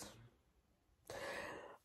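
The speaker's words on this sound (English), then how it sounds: "It's just this cough is annoying." A cough from a woman who is on a puffer and steroid for it, one short harsh burst at the start, then a louder, longer, breathy cough or throat clearing after a quiet pause, close to the microphone.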